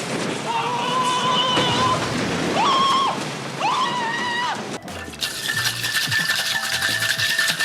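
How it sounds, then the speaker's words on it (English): A holiday flip cocktail is dry shaken hard in a sealed shaker without ice, a dense, noisy rush of liquid sloshing heard in the second half after a voice and tonal sounds at the start. "just like how we make a whiskey sour, we're gonna dry shake first, add ice, and double strain later"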